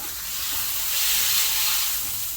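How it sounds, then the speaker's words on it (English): A chicken breast sizzles loudly as it is flipped over in a hot pan, a dense continuous hiss of searing that swells slightly midway and then holds steady. "I'm going to turn the breast around."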